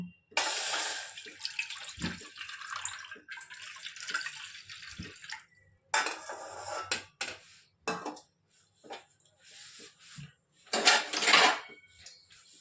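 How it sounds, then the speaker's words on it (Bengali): Milk pours into a bowl set on a gas stove for homemade kalakand, a splashy rush with a few clinks of kitchenware, pausing and resuming in short bursts near the mic. "তার মধ্যে খানিকটা দুধ ঢেলে দেব"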